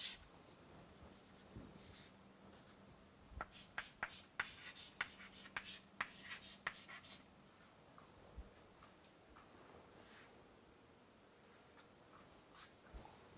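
Pen or chalk writing out an integral during a calculus lecture, a quick run of ticking strokes and taps in the middle, close and fairly quiet over a faint hum, with no talking.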